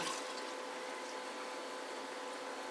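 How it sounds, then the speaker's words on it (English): Steady broadband rush of purified water pouring into a container for apple and cinnamon detox water, continuous and fairly even from start to finish, with no talking. "Now I'm going to add the water,"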